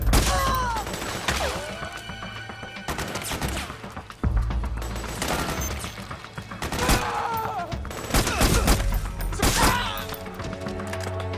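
Rapid bursts of gunfire and impacts in the video game Metal Gear Solid 4: Guns of the Patriots, loud and continuous with thuds and crashes, while soldiers shout orders in the background.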